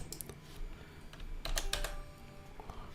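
Quick bursts of keystrokes on a computer keyboard, fairly quiet and close, with short uneven clusters of clicks and brief pauses between them, no talking.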